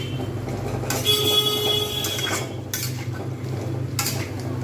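Potatoes stir-fried in oil with hing and garam masala sizzle under a low steady hum, broken by several sharp metallic scrapes of a spoon against the pan.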